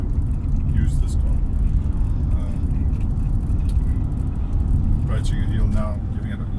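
A 2006 Mercedes ML320 CDI diesel SUV accelerates gently uphill, its engine a steady low drone under constant road and wind noise from inside the cabin.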